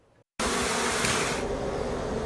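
Bees at backyard hives produce a steady, dense buzzing that starts abruptly after a brief silence and holds loud and close, without any voices.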